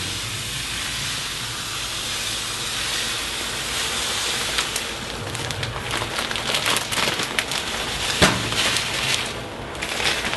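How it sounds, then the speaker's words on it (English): A pot of spiced Caribbean sorrel drink, with sugar just added, boils hard at high heat, giving a steady close hiss and rushing bubble that grows rougher and louder near the end. "what I'm doing now is dropping the sugar at a high temperature boil"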